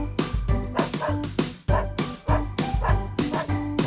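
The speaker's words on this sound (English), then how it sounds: "Dog." A dog barks repeatedly in a quick, regular rhythm inside a children's animal song, each bark sharp and close, with short yips among them.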